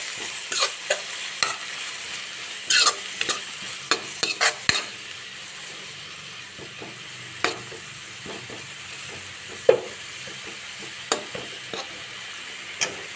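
Fenugreek leaves with garlic paste and salt fry steadily in a pan, a soft continuous sizzle broken by repeated sharp spoon scrapes and knocks against the vessel.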